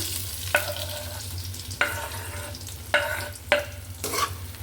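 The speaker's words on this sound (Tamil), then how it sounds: "லைட்டாக டோஸ்ட் பண்ணி எடுத்துருவோம் ப்ரெட்டை" Bread pieces being toasted and stirred in a pan for bread upma, a steady low sizzle broken by four or five sharp scraping strokes of the spoon against the pan, close and alone with no talk.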